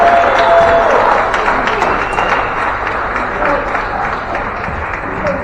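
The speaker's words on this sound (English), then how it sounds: "Right, big round of applause for Douglas Local Management Group." Applause from the crowd at a community volunteer-week celebration on a campus, a dense burst of clapping that starts loud and tapers slightly while voices carry on beneath it.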